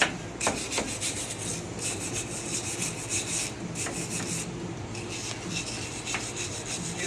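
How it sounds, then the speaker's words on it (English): A hand wire brush scrubs rust off a Jeep Wrangler TJ part in a series of close, rasping strokes, each scrape rising and falling in bursts with short pauses between them. "chip the most of it off, then wire brush it off like that"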